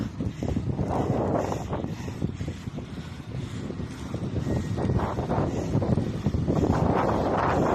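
Strong wind buffets the microphone during a group cycling ride in a constant loud roar, gusting and rumbling throughout with no clear voices.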